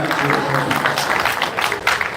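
Clapping inside a New Orleans Baptist church service: dense, bright handclaps from a congregation, steady and close for a couple of seconds.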